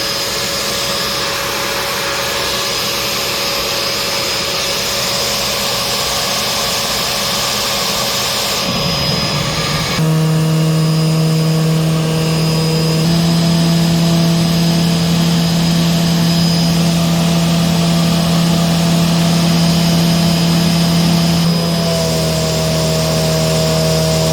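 A Dirt Devil Platinum Force 091200 vacuum cleaner runs loud and close, a steady whining roar with a sharp tonal hum that shifts pitch as the airflow changes, with air leaking around a fitting.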